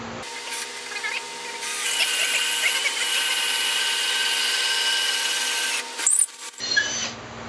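A power drill bores dowel holes into wood, a steady high whine that starts after a short pause, runs loud for about four seconds, then stops and is followed by a few brief knocks and scrapes.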